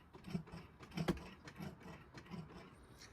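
Worn steering cable and pivot bushing on a 160 horsepower Kawasaki Ultra LX jet ski, producing faint, close creaking and clicking as the bars turn, in a few irregular bursts with quiet mechanical rubbing between.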